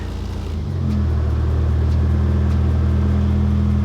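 Toyota KE35 engine with the exhaust baffle removed, revving up from a rough idle into a loud, steady, deep rumbling drone heard close by, with no talking.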